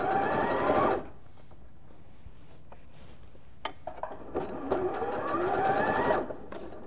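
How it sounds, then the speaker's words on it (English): A sewing machine stitches fabric in two close, fast mechanical whirring bursts, one brief and one longer, separated by a quiet pause with faint clicks as the fabric is handled. "I'm going to ease onto the pedal very slowly and start sewing"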